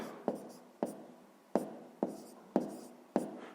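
Numbers written by hand on paper during a fifth-grade decimal subtraction exercise: six sharp pen strokes at an uneven, steady pace, each a quick scratch that fades out, close and fairly quiet.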